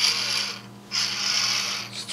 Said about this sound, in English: It's a really loud gearbox.